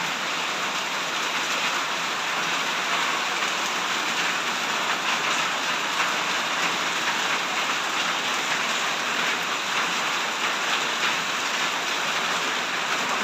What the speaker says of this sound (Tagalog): Malakas talagang ulan ngayon gabi.